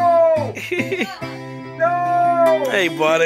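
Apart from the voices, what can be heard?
cat meowing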